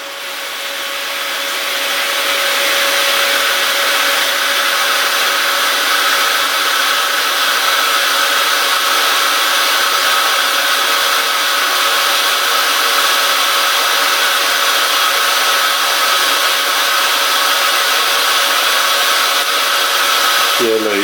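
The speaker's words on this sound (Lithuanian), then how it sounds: "Siurblys nėra naujas. Gali būti, kad ir nepajėgs sukelti užduoto slėgio." An old water pump runs steadily while building pressure during a pressure switch adjustment: a continuous, fairly loud whir with a faint steady hum. It fades in over the first couple of seconds and then holds unbroken to the end.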